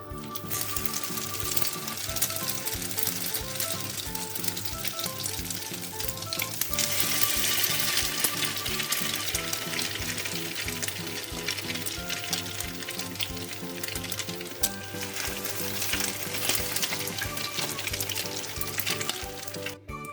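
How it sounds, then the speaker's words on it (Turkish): Slices of egg-coated bread sizzle steadily in a hot frying pan, a continuous bright crackle holding at a moderate level throughout with no talking. "Şimdi geri kalan ekmeklerimizi de yine tavaya atıyoruz."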